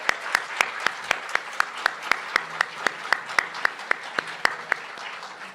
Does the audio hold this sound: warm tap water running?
no